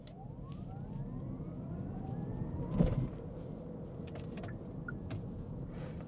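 A Hyundai electric car accelerates from 0 to 50, and its motor gives off a faint, rising whine that sweeps upward over low road rumble. A brief thump lands near the middle.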